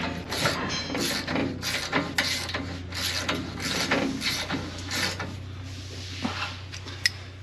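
A wrench ratchets steadily while tightening a bolt on the stuffer door of a 4790, 4900, 4910 or 4755 series baler, producing close, regular metallic clicks for several seconds that then taper off over a low, steady hum.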